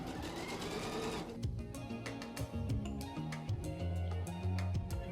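A sewing machine running off a basting seam on fabric for a robe-style top, with close, steady mechanical stitching in quick, even bursts.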